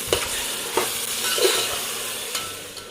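A spoon scrapes and stirs soybeans and tomatoes sizzling in a hot pan, with a few distinct scraping strokes over a constant frying hiss.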